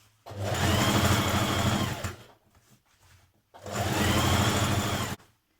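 A sewing machine stitches a skirt seam in two steady bursts of rapid mechanical whirring, each lasting about two seconds, separated by a short quiet pause.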